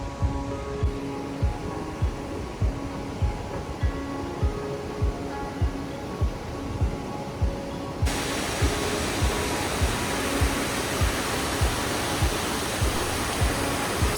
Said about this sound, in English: Chumi Gyatse waterfall is considered a holy waterfall by the Buddhist people.